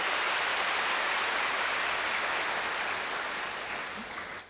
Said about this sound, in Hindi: भाई जोरदार ताली बजाइए उन लोगों के लिए